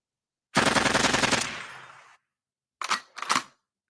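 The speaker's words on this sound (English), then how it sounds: "Gunfire shatters windows at a Southland Chuck E. Cheese." A rapid burst of automatic gunfire, loud and close, fading out, then two sharp separate shots after a short pause.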